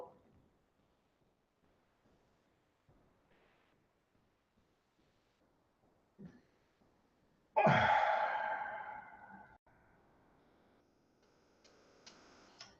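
One forceful breath is blown out hard during a qigong breathing exercise, a loud, close, breathy whoosh that fades over about two seconds after near silence and a few faint ticks.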